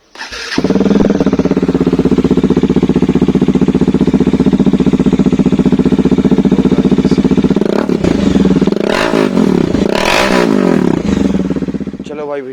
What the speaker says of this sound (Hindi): तो भाई गाड़ी स्टार्ट कर दिया मैंने